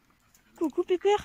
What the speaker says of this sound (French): berger australien, ma race de chien préférée.